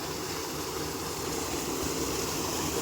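A small waterfall tumbling into a stream beside paddy fields, its rushing, rumbling flow steady and close with a strong low-end churn and no speech.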